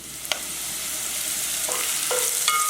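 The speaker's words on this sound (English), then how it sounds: "Stir. Add 1 cup of chopped spinach." Chopped spinach fries with asafetida (hing) and whole red chilies in a pan, a steady close sizzle broken by a few scraping spoon strokes as it is stirred.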